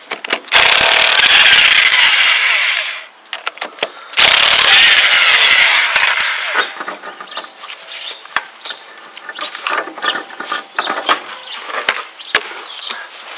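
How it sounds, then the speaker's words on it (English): A loud power tool whirs through two long bursts to remove a 17-inch rim and wheel from a jacked-up Ford rear axle, followed by rattling clicks and metallic handling up close. "we'll go ahead and get this big 17-inch rim and wheel off"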